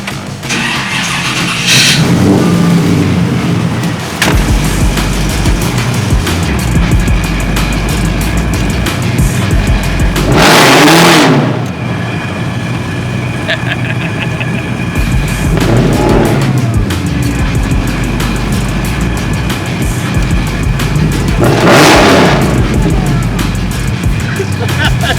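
A 1962 Chevrolet Impala with over 1,000 horsepower, air-bag suspension and 24-inch wheels, its heavy engine rumbling steadily and swelling into several loud revs as it drives, with brief voices in the background.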